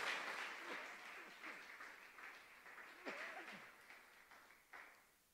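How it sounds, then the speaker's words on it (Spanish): A church congregation applauds at a Sunday service, a faint, diffuse wash of clapping that swells and fades over several seconds, heard alone. "¿Cuántos le pueden dar un fuerte aplauso a ese Padre bueno que tenemos?"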